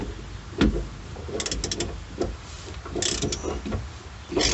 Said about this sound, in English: take the half-inch ratchet with the 1⅛ socket